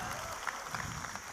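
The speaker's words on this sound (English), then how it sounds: "A huge cheer for yourselves, man." Audience at a college orientation programme clapping, a dense, continuous patter of applause from a crowd throughout.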